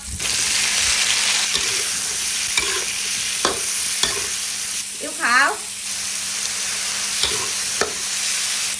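Pork and luffa gourd are stir-fried in a hot pan, a constant loud sizzle broken by repeated scraping strokes of a spatula, with a brief bubbling gurgle midway.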